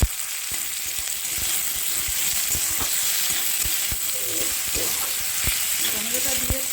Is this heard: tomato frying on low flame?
yes